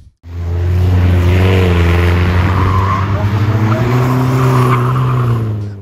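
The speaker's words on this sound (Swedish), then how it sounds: "Otroligt mycket bilkörning." Race cars with stripped, welded-up bodies tear around a circuit in a four-hour endurance event. A loud, close engine drone holds steady with rising and falling pitch as the car passes, and tires scrub and squeal over it.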